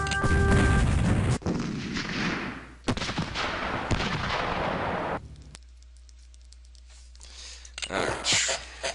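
Heavy artillery booms and continuous rumbling battle noise fill the opening seconds of the Civil War Generals 2 video game, then fade to quieter clicks and scattered distant thuds.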